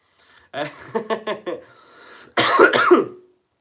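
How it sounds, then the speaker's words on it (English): A man coughs in a rough series of short barks, pauses briefly, then breaks into a louder, denser burst of harsh coughing close to the microphone. "Sorry guys, I'm coughing"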